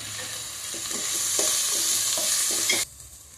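Green chillies and onions sauté in a pan for a mutton bone curry, with a steady close sizzle under repeated scraping stirs that stops abruptly near the end.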